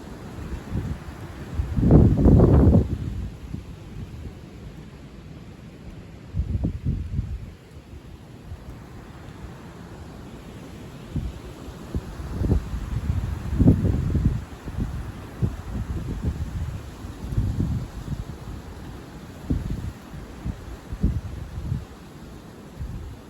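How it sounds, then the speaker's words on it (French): A strong southwest gale blows in repeated gusts, each a loud rushing surge over a softer continuous roar of wind noise, with no voices. "C'est un vent de sud-ouest."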